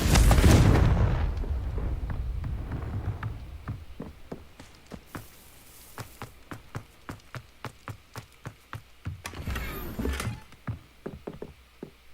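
In Hogwarts Legacy, the Confringo explosion spell goes off as a loud, close boom at the very start and rumbles away. It is followed by a run of steady hollow footsteps and another softer burst.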